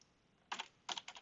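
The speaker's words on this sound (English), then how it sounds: "Need to type in a password first." A few quiet bursts of key presses on a computer keyboard as a password is typed: a short cluster of clicks, a pause, then two more quick groups of taps, close and faint against a near-silent background.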